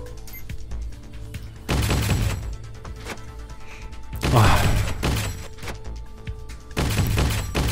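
Gunfire in the video game Halfway: several bursts of shots and booming impacts, each loud and close, separated by short quieter gaps with faint background tones.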